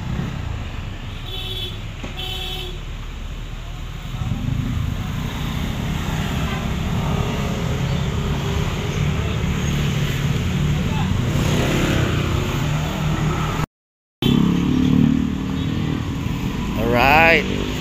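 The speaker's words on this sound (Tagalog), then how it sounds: "Pasok na yung motor." Motorcycles arriving on a charity ride for a riders club, engines rumbling and building steadily for several seconds as they draw near, with people talking over the noise.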